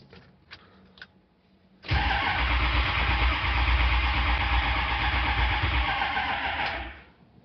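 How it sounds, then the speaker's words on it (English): A 6.0 HEUI diesel engine cranks and starts after a few knocks, then settles into a loud, uneven, rough idle with a low rumbling throb, close by and with no talking. "kind of a weird idle, it could stumble a little bit"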